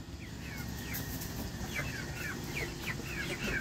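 A pet chicken clucks softly outdoors, giving several short chirping clucks over a steady low background rumble.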